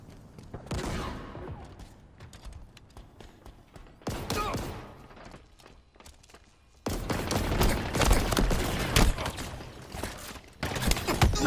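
Gunfire in the Halo video game: bursts of rapid automatic shots and single blasts, starting and stopping in clusters, then a dense sustained stretch of firing toward the end.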